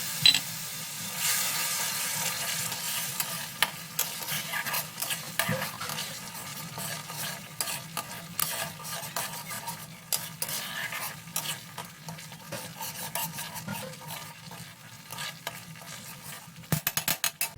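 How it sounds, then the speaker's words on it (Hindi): Tamarind water in a pot of prawn curry bubbles and sizzles at a rolling boil, a continuous close hiss broken by occasional clicks of a spoon or utensil, with no one talking. "देखिए इसमें बॉईल आ चुका है।"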